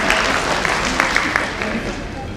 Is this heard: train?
no